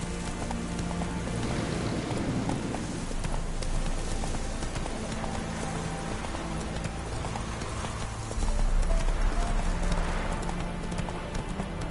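Roach the horse gallops through The Witcher 3, hooves clip-clopping in a quick, steady rhythm at moderate distance, with a soft rain-like hiss running underneath.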